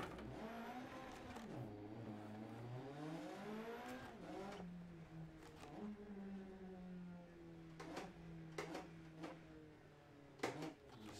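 A rally car engine in the game DiRT 2 revs and drops through gear changes, its pitch climbing and falling, with short sharp clicks, a steady mid-level roar throughout.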